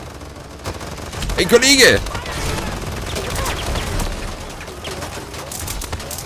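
A machine gun fires during a Paladins match in sustained, loud, rattling bursts over busy combat effects, with a brief whistling tone and someone talking over the action.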